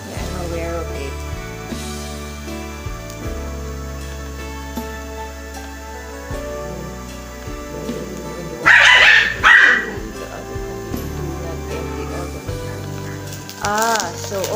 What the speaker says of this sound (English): sorry for the background, my dogs are barking